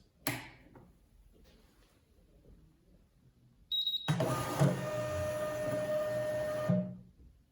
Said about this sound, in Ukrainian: І включаємо принтер ще раз.